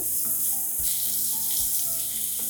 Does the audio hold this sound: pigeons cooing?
no